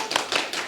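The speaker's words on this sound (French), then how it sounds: "Applaudissez bien fort." Applause from a live studio audience at a Japanese-cooking cooking show, heard as a short burst of dense clapping swelling in two or three waves, fairly close and loud.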